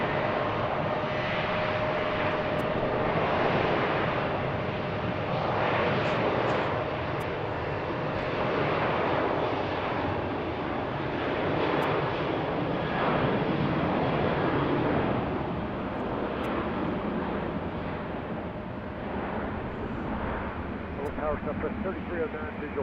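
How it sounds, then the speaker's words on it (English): A Southwest airliner roars down the runway on takeoff at BWI airport, a sustained, broad engine rumble holding steady for over twenty seconds, heard from a distance outdoors. "Southwest taking off."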